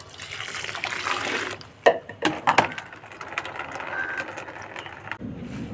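Water poured into a pot of soil for a rose plant to test its drainage: a rushing splash at first, then a few sharper gurgles and a softer trickle.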